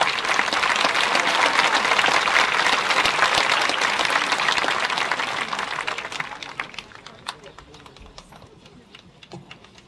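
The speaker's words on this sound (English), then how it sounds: "Another big round of applause." A graduation ceremony audience gives a big round of applause for the concert choir's senior members, loud and dense at first, then thinning out and fading to scattered claps.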